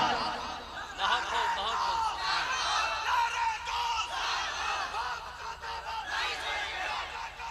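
A crowd at a devotional gathering shouts the Nara-e-Takbir chant in loud collective bursts, voices overlapping in rising and falling waves with some laughter and excited cries mixed in.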